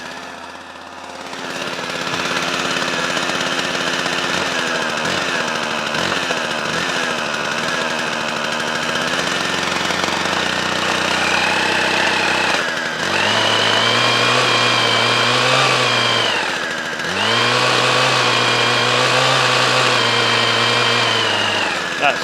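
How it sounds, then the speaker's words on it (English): A petrol two-stroke hedge cutter, choked and warming up after a second pull, runs steadily with a buzzing drone and dips and revs up twice near the end; someone speaks briefly over it. "this is my own hedge cutter"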